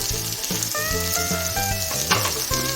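Coriander powder and spices sizzle in hot oil in a pan while brinjal rice is being made, a steady close frying hiss with a few clinks and stirring scrapes and no voices.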